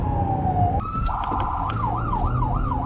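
A police siren wails loud and close, first a steady tone, then rising and falling in a fast repeating yelp, near a pedestrian accident scene with state police on hand.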